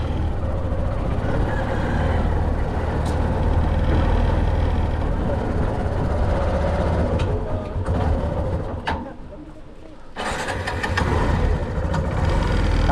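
A steady motorcycle engine rumble idles close by throughout, dipping briefly near the end before returning, with faint background noise.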